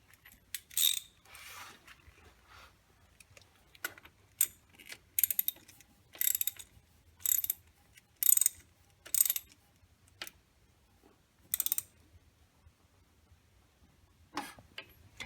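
A ratchet wrench tightens the nut on a 1935-1939 Indian motorcycle electric starter sprag, giving short separate bursts of crisp clicking spaced a second or two apart, close up, with no talking.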